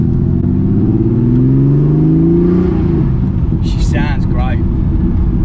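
A modified Porsche 911 SC engine revving: a loud, close rumbling growl whose pitch climbs and falls over several seconds, with voices briefly talking over it near the end.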